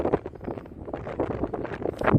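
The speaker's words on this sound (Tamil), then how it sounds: "காற்று நல்லா சில்லுன்னு அடிக்குது காற்று" Wind gusting outdoors on a hillside near Mettupalayam, buffeting the microphone in uneven rumbling bursts that rise and fall, loud and close, with no one talking.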